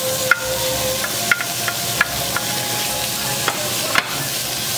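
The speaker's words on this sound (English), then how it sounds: "first thing we gotta do is cook this bacon" Small chopped squares of bacon frying in a pan, a continuous close crackling sizzle with a few sharp utensil taps and stirring knocks spaced through it, no voices.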